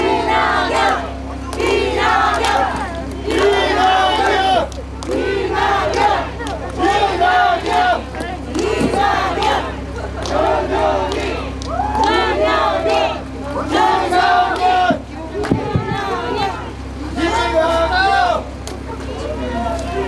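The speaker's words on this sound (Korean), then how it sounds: "큰 박수 청해 주십시오." A large crowd at a South Korean general election campaign rally shouts and cheers loudly, in a continuous, rhythmic roar of massed voices that runs throughout.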